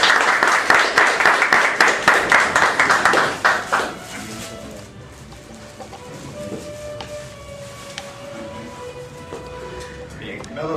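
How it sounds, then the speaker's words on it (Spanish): An audience at a literary colloquium in Lambayeque applauds Professor Mario Castelo, a loud burst of rhythmic clapping for about four seconds that fades out, leaving a quiet hall. "y el aplauso de ustedes"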